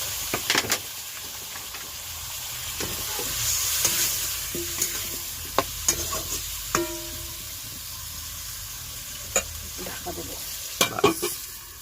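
Spice masala for a tuna fish curry sautés in a pan with a steady close sizzle, punctuated by scattered stirring scrapes and light utensil clinks over about twelve seconds.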